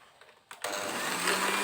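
An electric mixer starts up after brief soft clicks and settles into a steady close whine as it beats egg yolks and sugar for pandan bika ambon batter.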